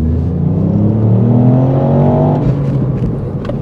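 A small 1.5-litre three-cylinder car engine revs up and accelerates, a steady rising drone that eases off near the end, heard from inside the car with no talking.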